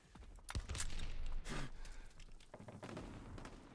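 Shotgun blasts in Call of Duty WWII multiplayer, a few sharp, loud bursts with thuds in between, heard without talk.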